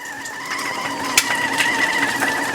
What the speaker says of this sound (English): Now you guys can hear the kettle whistle. It got really loud too.